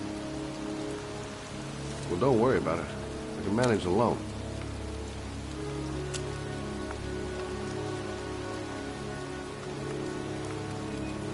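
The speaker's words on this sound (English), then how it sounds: "pouring rain." Pouring rain falls steadily in a cemetery in a video game, an even hiss throughout while someone speaks briefly over it.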